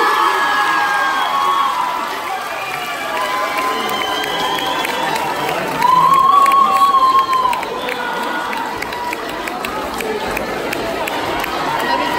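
Crowd at a dance contest in St Saulve cheering and whooping for the winners, with children shouting amid a loud, lively hall roar that peaks briefly midway, an announcer speaking over it.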